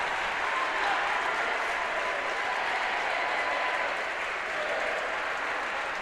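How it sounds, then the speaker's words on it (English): A Fairfield crowd gives a standing ovation at a high school basketball regional semi-final, a steady, dense wash of applause filling a gym throughout at moderate distance. "Nice standing ovation by the Fairfield Mule crowd."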